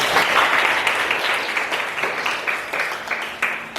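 A classroom of students applauds a student group during a teaching performance assessment, with dense, steady clapping that fills the whole stretch at a fairly loud, even level.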